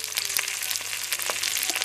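Okra frying in a pan for a mutton bhendi curry, a steady close hiss of sizzling oil with small crackling pops and brief scraping accents throughout.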